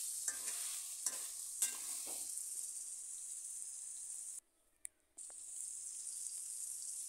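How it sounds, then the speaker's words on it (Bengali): Pumpkin curry with sugar stirred in a pan, a bright steady sizzle with a few scraping strokes early on, cut by a brief silent gap; no one talks. "তাই আমি চিনি দিয়ে আবারও ভালো করে নাড়িয়ে চাড়িয়ে দিচ্ছি"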